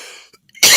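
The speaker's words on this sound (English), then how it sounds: "I have to have a coughing fit." A person coughs in a short hard burst after a brief rasp and a pause, the final cough loud and close.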